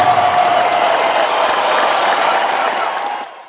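An audience at a Nepali music concert breaks into a short, loud burst of applause and cheering that fills the hall and then cuts off abruptly.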